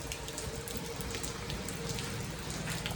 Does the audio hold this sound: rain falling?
yes